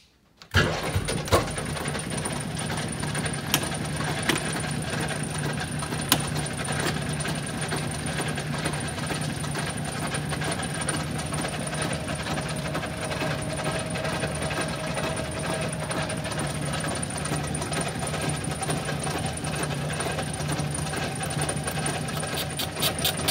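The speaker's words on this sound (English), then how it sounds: "And I'm using a lathe to do this." A lathe surfaces the top face of a classic Mini cylinder head, giving a steady mechanical whir with faint ticking and tonal ringing that runs evenly throughout, close and without speech.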